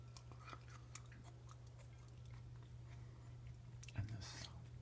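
Whispered close-up chewing of microgreens, greens past the sprout stage but not fully grown, with soft crunchy bites and mouth sounds throughout and a louder crunch near the end over a low steady hum.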